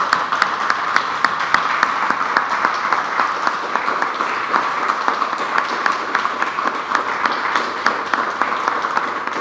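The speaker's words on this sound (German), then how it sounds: "das schöne Klatschen sagt fast mehr als 1000 Worte" An audience at a talk on democracy and government transparency claps steadily and evenly throughout, a dense, sustained round of applause with no voices over it.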